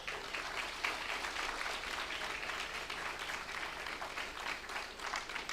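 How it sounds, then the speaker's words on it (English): An audience at the CSIR-NPL 80th Foundation Day celebration gives a long, even round of applause to welcome the chief guest, a science and technology minister. The clapping is dense and sustained throughout, with no break. "Can we have a huge round of applause?"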